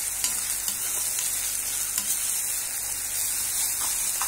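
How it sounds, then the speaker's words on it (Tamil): Mango pieces stirred in plenty of hot oil for mango thokku, a steady close sizzle with scraping stir strokes throughout, no voices. "எண்ணெய் நிறைய போட்டுங்க, அப்போ தான் வந்து மாங்காய் தொக்கு நல்லா வரும். போட்டு நல்லா கலரி விடுங்க."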